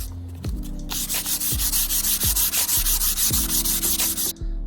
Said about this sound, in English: 80 grit sandpaper, and we are going to smooth this baby down